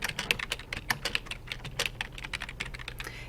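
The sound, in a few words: typing a name on a computer keyboard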